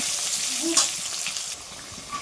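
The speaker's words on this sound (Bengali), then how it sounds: "দেখো এবার আস্তে আস্তে আলুগুলো একটু ভেজে নেব" Potatoes fry in hot oil in a pan, giving a steady broad sizzle with occasional stirring scrapes and brief crackles, close and moderately loud with no talk.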